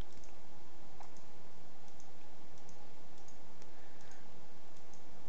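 Mouse clicks while picking items in a World of Warcraft addon vendor menu: a handful of faint, sparse clicks spaced irregularly over a steady low background hum, with no talking.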